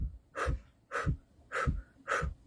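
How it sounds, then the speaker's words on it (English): Four short, forceful breaths pushed out through the mouth in a steady rhythm during a breathwork exercise for lung function, each one a close, breathy huff separated by brief pauses. "doing those short exhales with your mouth"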